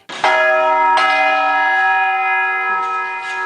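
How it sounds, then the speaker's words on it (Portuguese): A bell of the main parish church in São João del Rei, Brazil, tolls loudly nearby, struck twice in quick succession, its rich ringing tone sustaining and slowly fading. "A cada toque de sinos,"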